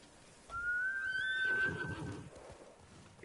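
A horse in the video game Ghost of Tsushima lets out a loud, close whinny lasting about a second and a half, with a rising, wavering tone that tails off into quieter shuffling.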